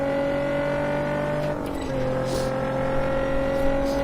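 A race car engine in the video game Test Drive Unlimited 2 holds a steady, loud drone, its pitch stepping down briefly at a gear change before it settles into a constant hum, with no talk.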